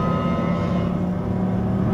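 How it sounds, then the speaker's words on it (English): A Jaguar I-PACE electric car accelerating hard at full throttle, giving a steady, continuous synthetic race-car howl that holds at an even level with no talking. "So this is us absolutely flooring it. We've got our lovely race car howl there."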